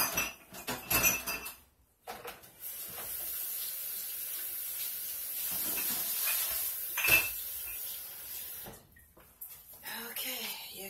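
Thick oatmeal, milk and agave cold-process soap batter is stirred and scraped in a container, giving clinking utensil knocks and a long hissing blend, with quiet gaps and a voice talking now and then.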